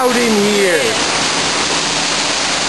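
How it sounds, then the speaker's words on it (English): Indoor waterfall beside a fish tank at the National Aquarium in Baltimore, a loud, steady rushing hiss of falling water filling the space, with a brief voice-like tone near the start. "that is a fish tank in front of an indoor waterfall"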